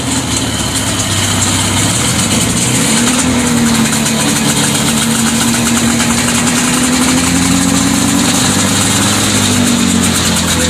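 A vintage snowmobile engine idles at a show, a steady close humming drone with a low mechanical throb that holds evenly throughout, with no voices.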